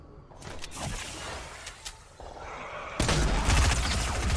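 Video game gunfire in a shooter, a few sharp shots early followed by a louder, denser volley of rapid fire in the last seconds, with no talk.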